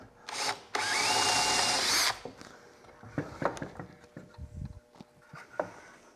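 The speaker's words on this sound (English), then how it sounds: "I'm gonna run a screw in from the bottom, maybe a couple screws" Power drill running screws up through the bottom of a wooden tapering jig block, a loud whirring burst of about a second, then scattered clicks, taps and handling knocks nearby.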